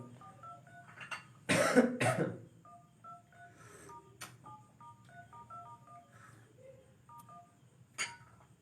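A short burst of coughing, a couple of harsh coughs close together, amid quiet beeping tones and faint background sounds.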